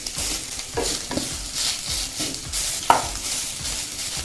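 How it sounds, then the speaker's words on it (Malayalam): Mackerel gets stirred into a frying thoran in a pan, with a low sizzle under irregular scraping and stirring strokes and a sharper clack near the end. "ഇനി നമുക്ക് നന്നായി ഒന്ന് ഇളക്കി കൊടുത്ത് ഒന്ന് അടച്ച് വയ്ക്കാം."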